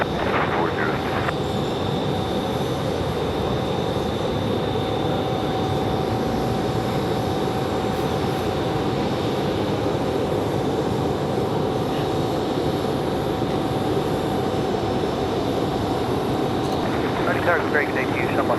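An airplane takes off from runway 5 right at Raleigh Durham International Airport, a loud continuous engine roar that stays steady throughout, with voices heard over it.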